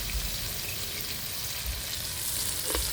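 Spices, cloves and tomatoes frying in a pot over a woodfire for biryani, a steady close sizzle and crackle running throughout with faint stirring and no talk.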